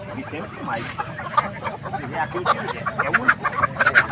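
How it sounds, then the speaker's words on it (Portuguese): Poultry at a chicken market in Dois Riachos, Alagoas, cluck and squawk in a busy, noisy crowd, with someone talking over the birds throughout. "Essa aqui é uma galinha"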